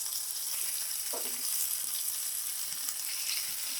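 Boiled dry papdi beans fry in a pan for a Surti papdi bharthu, giving a steady, moderate sizzle throughout with a few faint clinks and no talking.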